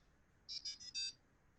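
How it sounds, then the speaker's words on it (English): Wristwatch alarm chirping four quick high-pitched electronic beeps in a row, faint and a little distant over low room noise. "You may have heard the beep from my watch over there."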